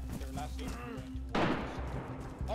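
A single distant gunshot in the survival game DayZ, a sudden muffled crack with a rumbling tail that lands midway through an ongoing low hum, with people talking quietly over it.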